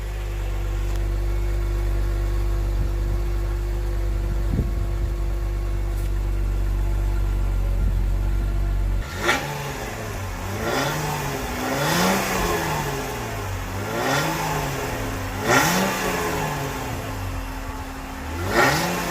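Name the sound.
Jeep Wrangler JKU stock exhaust idling and revving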